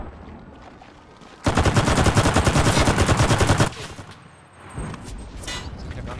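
Sustained machine-gun fire in the Enlisted video game: a loud, continuous, rapid burst lasts about two seconds, followed by quieter scattered shots and battlefield noise.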